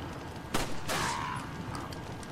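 Two sharp gunshots in the video game Resident Evil 4, a fraction of a second apart, cracking over a steady hiss of game ambience with no talk.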